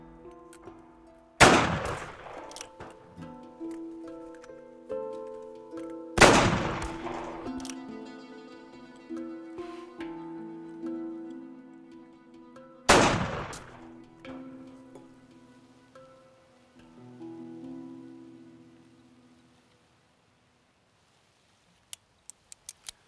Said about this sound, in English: You got 3 more shots in that gun.